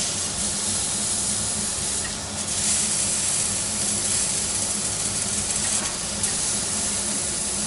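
Moose steak sizzles on a grill with a continuous loud hiss and crackle, steady from start to finish without talk.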